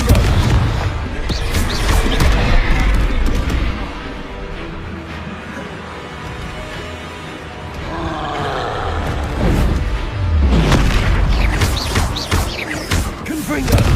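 Confringo explosive spell blasts in the Hogwarts Legacy video game, loud booming bursts that repeat amid dense, chaotic combat noise, with the heaviest impacts near the start and the end.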